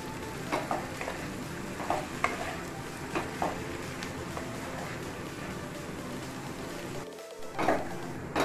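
Chowmein being stir-fried with potato and onion in a pan, a constant dense sizzle with regular scraping and tossing strokes of the spatula, close and fairly quiet, no voices.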